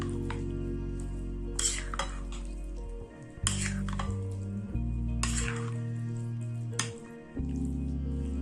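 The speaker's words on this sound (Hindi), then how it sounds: "अब इसे मैं मिक्स कर लूंगी।" Spoon stirring a Lab-e-Shireen dessert mixture in a bowl, with repeated scraping clinks against the container at a loose rhythm, close by with a faint hum beneath, no talk.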